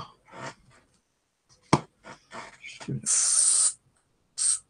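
A spray bottle mists water onto stamps stuck on thick paper, giving one long hissing burst and then a shorter one, with talk before the spraying.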